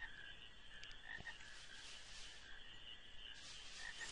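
Frogs croaking in the video game Final Fantasy IX, a faint, steady ambient chorus with scattered short croaks and chirps running throughout, no speech.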